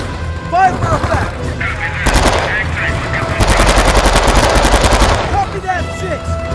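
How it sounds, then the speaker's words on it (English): Loud, sustained bursts of .50-caliber machine gun fire in the war video game Men of Valor, rattling in rapid strings with heavy booms of battle behind them, close and dense throughout. "Machine gun fire on 50 cal."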